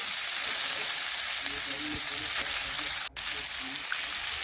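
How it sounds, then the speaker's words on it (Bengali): Chopped tomato and onion stirred together and fried in a pan, a close, steady sizzle with soft stirring scrapes and a momentary dip near the end. "টমেটো আর পেঁয়াজ দেখুন একসাথে মিশিয়ে নিলাম, একটু নাড়াচাড়া করে ভেজে নিলাম"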